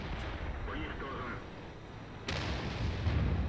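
Tank cannon fire in World of Tanks, a single heavy boom about two-thirds through, sharp and close against a low rumbling background of battle noise.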